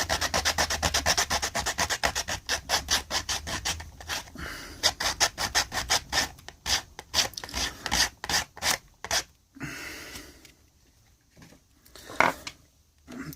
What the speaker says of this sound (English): What I'm going to do now is get my sandpaper.